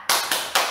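A school class claps in unison for the rhythmic PPK clap, three sharp, close group claps in quick succession with a slight pause before the last.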